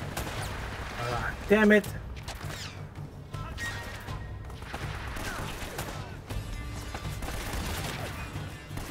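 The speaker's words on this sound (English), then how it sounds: "everyone's shooting at me" Gunfire and crashing impacts from the Uncharted: Drake's Fortune video game, with a sharp loud burst near the start over steady game noise and a player's voice speaking briefly.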